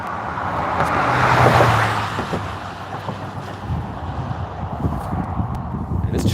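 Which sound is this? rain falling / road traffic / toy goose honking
road traffic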